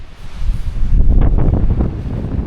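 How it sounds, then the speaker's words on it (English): Strong wind roars and buffets continuously on Mount Everest, with loud gusts rumbling across the microphone throughout, no voices. "It's gotten so windy and cold."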